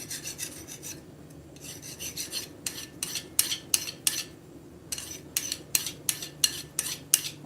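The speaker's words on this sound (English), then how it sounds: "I've got a little spot that I need to file off." Hand file rasping a small spot off a freshly forged metal piece in a forging workshop, a run of short, close scraping strokes that grow more regular and pronounced toward the end, with no talk.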